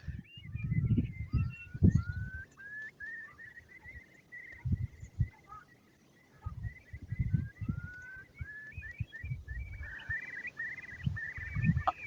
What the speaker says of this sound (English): I'm sure you can hear the fabulous noise of the curlew in the background.